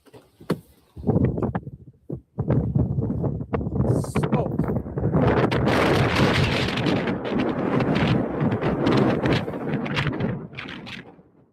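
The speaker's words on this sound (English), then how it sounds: "Dude, it's so windy out here." Strong wind blows outdoors near a wall cloud, a loud continuous roar buffeting the microphone for most of the clip, with people talking underneath.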